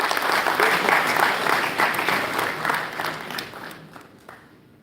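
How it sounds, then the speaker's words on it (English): Audience applause at a college event, a dense sustained wash of many hands clapping that gradually thins and fades out toward the end. "I think 3 claps for all of you."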